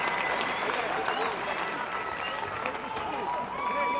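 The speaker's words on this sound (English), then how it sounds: "let's have a big round of applause for these 2 warriors" A crowd at an MMA fight night applauds the two fighters after the bout, steady clapping and crowd noise holding at moderate volume for a few seconds.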